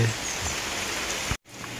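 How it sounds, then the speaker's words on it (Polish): Steady rain falling outdoors on a farm, an even dense hiss filling the background, close and continuous, with a brief dropout near the end. "mam wspaniałą wiadomość pada deszcz u nas"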